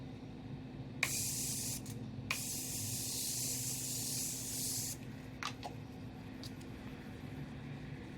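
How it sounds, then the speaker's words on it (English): A Morphe Continuous Setting Spray hisses onto a face in a long continuous mist after a couple of short bursts, then stops, followed by faint clicks and rustling. "now we're just gonna set his face with the Morphe Continuous Setting Spray"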